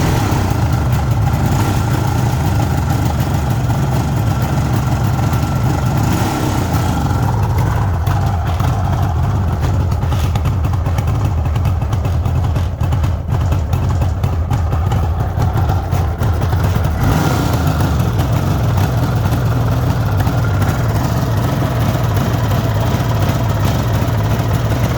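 A cold 1974 Suzuki GT750 motorcycle with the choke off idles unevenly in a loud, continuous, close rumble, with no one speaking.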